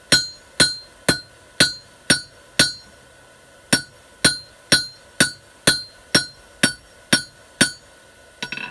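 Steel being squared on an anvil by a blacksmith's hammer: about fifteen sharp, ringing strikes in a steady rhythm with one brief pause, loud and close, with no talking.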